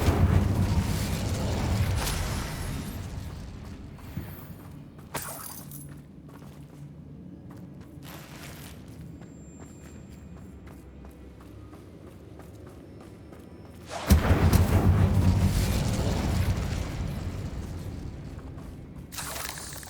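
A fire spell blasts in Hogwarts Legacy with loud, rumbling bursts, a heavy one at the start and another around midway through. A quieter stretch of low mechanical rumble and movement sits between them.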